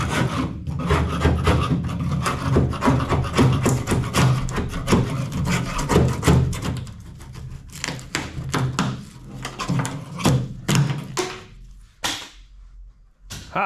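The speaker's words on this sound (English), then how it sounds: "All right, we'll try a little bit of scraping here, see what else we can get up." Bondo filler is scraped off the metal body of a 1962 Brockway 260 truck, a close, loud run of rough rasping strokes with short pauses between them.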